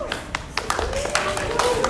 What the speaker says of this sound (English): 18 years deserves a clap